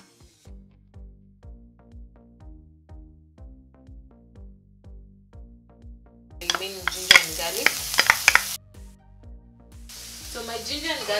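Ginger and garlic sizzling in a frying pan, starting as soft rhythmic stirring taps, then bursting into loud crackling sizzle that cuts off and returns.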